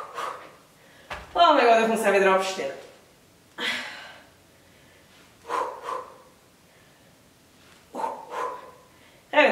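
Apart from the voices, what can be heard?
heavy panting during an ab workout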